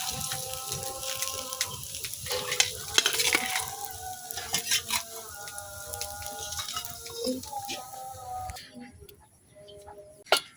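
Prawn chops sizzle as they fry in oil, a soft, steady crackle with scattered ticking pops that thins out and drops away near the end.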